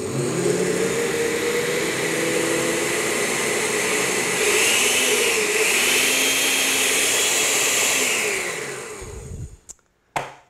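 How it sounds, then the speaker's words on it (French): Blender running continuously to mix ice cream ingredients with peanut butter, a loud steady motor whir with a churning roar that holds for about eight seconds, then winds down and stops with a couple of clunks. "on va remettre le couvercle, puis on va partir le blender afin d'avoir un beau mélange homogène"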